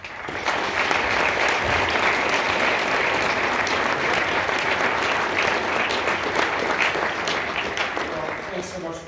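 A university lecture audience applauds steadily to welcome the president, a dense and sustained clapping that holds for several seconds and then tapers off near the end.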